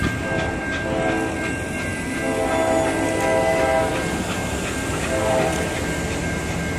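Two trains rumble and clatter steadily into Greensboro station, one hauled by steam locomotive 611, with a sustained horn tone and low rolling noise throughout.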